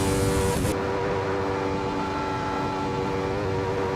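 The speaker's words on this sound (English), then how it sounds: "I love listening to the roar of these engines." Wolf GB08 race car engines roar in the Assetto Corsa racing game at the Reservoir GP, a loud, sustained, steady engine drone with held tones and no talking.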